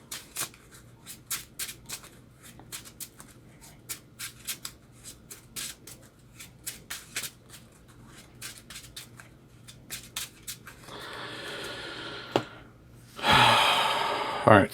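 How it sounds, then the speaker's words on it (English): A deck of cards for a Marvel Champions game is riffled and shuffled in a long run of crisp, close snaps, ending in two bursts of dense fluttering. "And then shuffle."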